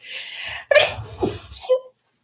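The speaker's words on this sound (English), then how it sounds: "I sneezed." A single sharp sneeze close to the mic, with a quick inhale before and a short breathy trailing sound after.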